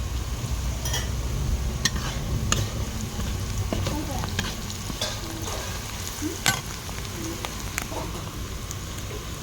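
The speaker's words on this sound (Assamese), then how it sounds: "পিঁয়াজখিনি সুন্দৰকৈ ভাজি ল'লোঁ" Onions fry steadily in a pan in a restaurant kitchen: a continuous close sizzle with scattered clicks and scrapes of stirring throughout.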